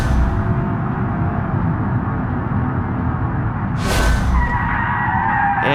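Car tyres skidding briefly in BeamNG during a small throttle slide in an automatic car, a short loud screech rising out of steady engine drone near the end, close and prominent.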